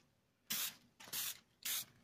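Spray paint can spraying a 3500 lb Pro-Point trailer jack, three close, loud hissing bursts of roughly a quarter second each, separated by short pauses.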